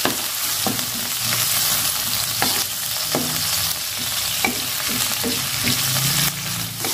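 Shrimp fry in a hot pan with a steady, loud sizzle, and a utensil stirring and scraping at irregular intervals throughout. No one speaks.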